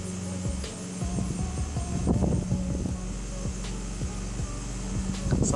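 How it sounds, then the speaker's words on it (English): Strong outdoor wind at about 20 miles an hour buffets loudly and steadily, with low rumbling gusts and throbbing surges filling the whole stretch and no talking. "The wind is picking up, so let's get right on with this."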